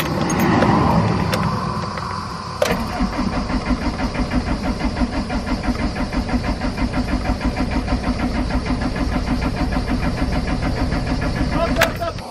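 Broken-down car on an expressway, its engine cranking repeatedly in a fast, steady chugging rhythm for a long stretch, close and loud, with a few sharp clicks and people talking.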